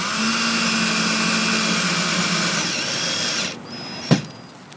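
Power drill driving screws into plywood decking on a Boston Whaler boat, a loud steady whine that runs for several seconds, then stops with a short sharp knock and quiet afterward.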